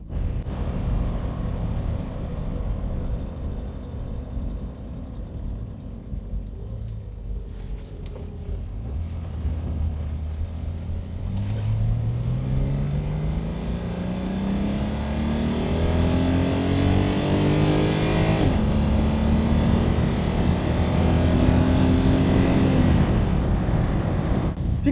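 A 1967 Mercedes 250SL Pagoda engine revs up steadily through the gears, its pitch climbing with each pull before dropping at a shift, loud and close with no talking.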